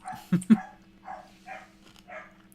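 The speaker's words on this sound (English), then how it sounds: "Fucking dogs." Dogs bark a couple of sharp, close yaps, followed by several softer, muffled barks or whines spaced about half a second apart, fairly quiet in an indoor room.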